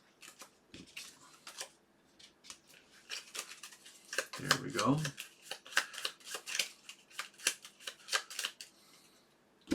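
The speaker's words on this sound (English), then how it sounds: "And the bot will shuffle its cards." A solo bot's playing cards being shuffled, a rapid run of crisp riffling flicks and snaps that builds in the second half, with a brief spoken remark near the middle.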